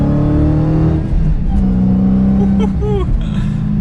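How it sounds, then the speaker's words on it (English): A Dodge Challenger SRT Hellcat with a six-speed manual, driving, gives a loud, steady engine drone with a tonal supercharger whine that rises and falls in pitch throughout. "That supercharger whine doesn't get old, that's for sure"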